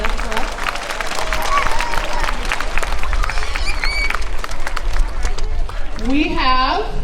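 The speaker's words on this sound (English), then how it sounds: "Can you give him a big round of applause?" Dense clapping from a crowd fills the room at a school assembly, with a voice speaking briefly near the end over the applause.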